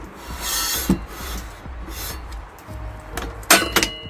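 A mitre saw is swung around and slid snugly down its guide against a back work rest, giving dry scraping rubs and a few sharp metallic clinks toward the end, close and moderately loud.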